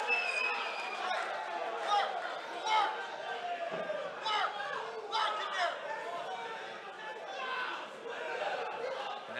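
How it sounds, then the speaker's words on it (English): Crowd at a boxing match at the Owl's Nest, a steady murmur of chatter and rising cheers filling the hall, with a commentator's voice running over the noise. "Crowd coming alive here at the Owl's Nest."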